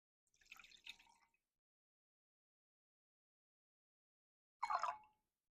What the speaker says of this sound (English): I got this Black Girl Magic Sparkling Brut. I hope I'm saying it right, but I'm gonna pour this up